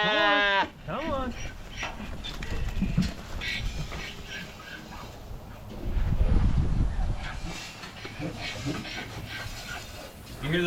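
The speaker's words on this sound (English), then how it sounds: "You hear those donkeys getting excited?" Excited donkeys bray on a farm, opening with a loud, close, rising-and-falling braying call, followed by further mixed animal calls and background bustle while a person speaks.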